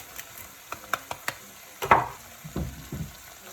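Grated parmesan stirred into arrabbiata sauce in a pan, heard as a quiet run of scattered utensil taps and scrapes, followed by a few louder clacks and soft wet stirring strokes.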